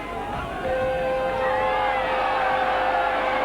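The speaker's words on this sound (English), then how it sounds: "And the crowd, in a sense, are beginning to roar." A rugby league crowd at Leeds v Sheffield swells into a roar as the match kicks off, with broad cheering and whooping that grows steadily louder and stays dense throughout.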